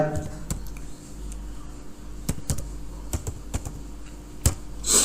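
Keys clicking on a computer keyboard as a PAN card number is entered into an online registration form, a run of separate taps over low room noise and a steady hum, with no talk.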